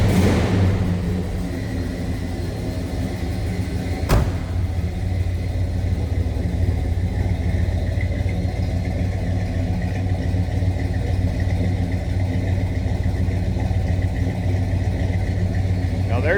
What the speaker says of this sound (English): There's a rumble. Like I said, there's a little Buick muscle.